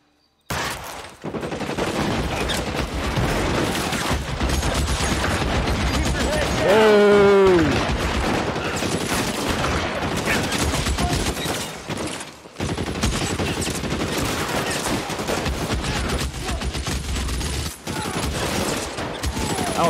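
Gunfire in the video game L.A. Noire, a steady dense crackle of shots under game noise through most of the stretch, with a louder burst midway and players talking over it.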